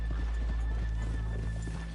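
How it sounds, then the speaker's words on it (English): Horse hooves clip-clop in a western video game town, a steady rhythmic trot of several beats over a constant low ambient hum. "let's leave the horses here off the main drag"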